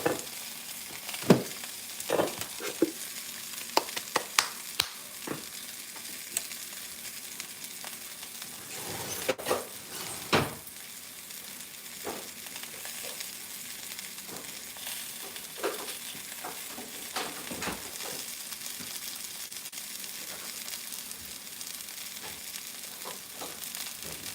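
Sausages fry in a pan with a steady soft sizzle, broken by scattered crackles and pops and a few scrapes and clinks, heard alone with no talking.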